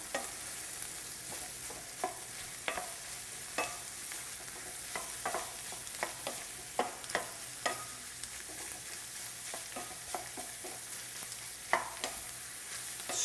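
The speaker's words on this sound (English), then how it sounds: "Stir this around a bit." Pork and kielbasa sizzle in a frying pan under a constant quiet hiss, while a utensil stirs them with soft, irregular scrapes and taps against the pan.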